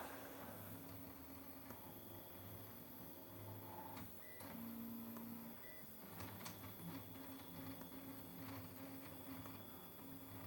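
A 3D printer runs steadily through the whole stretch, its motors whirring and humming in shifting tones with occasional short beeps and clicks, fairly close and alone with no talking.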